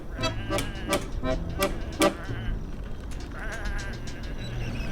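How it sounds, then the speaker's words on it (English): Sheep bleat several times in a PC video game, a series of loud, close calls in the first half followed by fainter game ambience with a soft voice. "Come on, these are just sheep."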